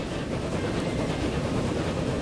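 Train rolling past in the railway game Transport Fever, a loud continuous rumble with a faint rhythmic clatter and no talk.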